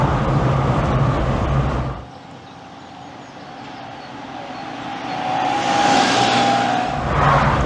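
A Honda Acty kei truck driving, its small engine droning steadily inside the cab, easing off for a moment and then revving back up as road noise rises.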